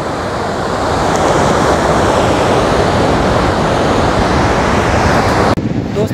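The Sindh river in flood rushing below the Madikheda dam with its gates open, a loud, continuous roar of churning water mixed with wind buffeting the microphone.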